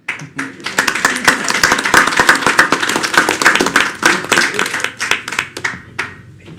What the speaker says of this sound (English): let's give the 4th graders a round of applause